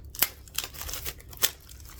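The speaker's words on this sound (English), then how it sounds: "so I'm going to unwrap it." Plastic wrap being torn off an eyeshadow palette, with several sharp crinkling rips spread over two seconds, close and moderately loud, no speech.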